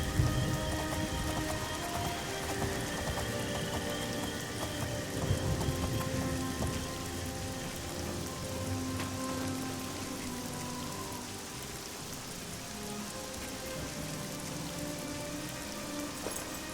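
Steady rain falls in a video game, a dense, even patter on surfaces that holds at a constant level throughout, with faint low rumbles and game ambience underneath and no talking.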